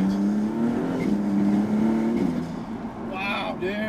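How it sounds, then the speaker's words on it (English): Maserati MC20 exhaust note with turbo whistles: a steady, close engine drone holds throughout, with higher whooshing turbo swooshes rising near the end. "the exhaust note in conjunction with the turbo whistles"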